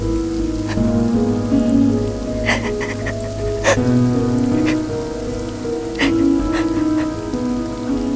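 Steady rain pattering on a surface, constant and fairly loud, with occasional heavier drips and a soft tonal hum underneath.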